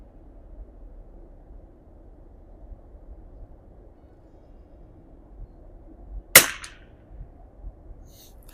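A single sharp crack from a Marlin 25 rifle with a scope, firing Eley Biathlon and CCI pistol match ammunition, rings out once over quiet outdoor background noise, followed by a faint echo.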